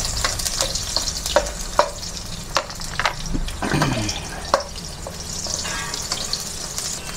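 Onions sauté in a little oil for chicken sinigang with guava, making a continuous crackling sizzle. Several sharp taps and scrapes of a spatula stir the pan up close, and no one speaks.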